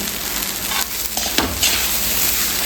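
Capsicum and spring onion stir-fry over a high flame, a loud continuous sizzle with a few scraping stirs and one brief clatter, close by and without talking.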